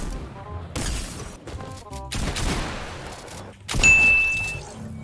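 Gunfire in the video game Fortnite: bursts of rapid shots in separate volleys with short gaps, ending in a louder burst with a high ringing tone. The sound is close and fairly loud.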